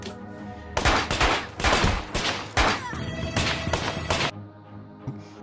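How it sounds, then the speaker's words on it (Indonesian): Loud bursts of gunfire crack through a dark room in a gang confrontation: four or five rapid volleys in quick succession, then sudden quiet. "saat suara tembakan terdengar"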